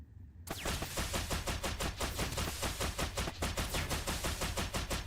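Rapid automatic gunfire in the video game Aground, a dense steady stream of loud shots fired at a patrol boat at sea, continuing for several seconds with no talk.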